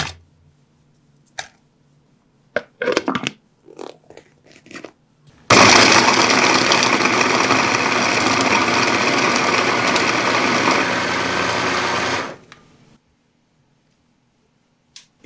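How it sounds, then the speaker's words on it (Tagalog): An electric grinder grinds fried meat for meatballs: a few soft clicks and knocks of handling, then a loud, steady, even whirring roar that runs for about seven seconds before cutting off into quiet. "Next, gilingin natin to."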